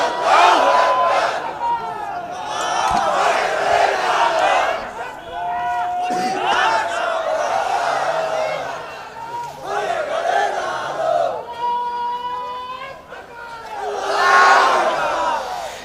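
A large crowd at an outdoor religious gathering chants Allahu Akbar in answer to a takbir call, loud massed voices shouting in repeated surging waves for the whole stretch.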